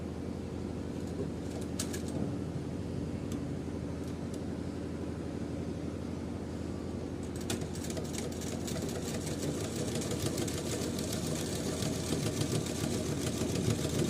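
Sewing machine stitching fabric during a tailoring lesson, a faint steady mechanical whir running continuously with a slight hum, no talk over it.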